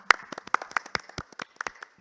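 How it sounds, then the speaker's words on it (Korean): An audience at an academic conference claps to welcome a panelist, a short burst of scattered, fairly sparse handclaps that thins out toward the end. "박수로 환영해 주시기 바랍니다"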